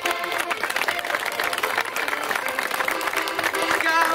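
A crowd at a mural inauguration claps for the civil governor, producing dense, continuous applause mixed with voices and background music.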